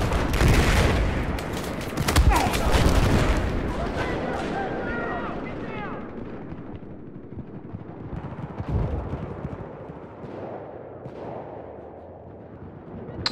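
Automatic gunfire from an M60 machine gun in Battlefield 4, dense loud bursts for the first few seconds, then sparser distant shots and explosions under players talking.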